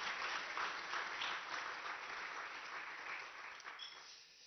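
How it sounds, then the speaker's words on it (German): An audience at a lecture on the Weimar Republic claps steadily in a room, a broad wash of applause that fades gradually toward the end; quiet overall. "Ja, Sie dürfen gerne klatschen."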